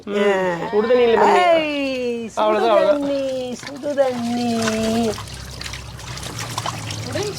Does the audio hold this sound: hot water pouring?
yes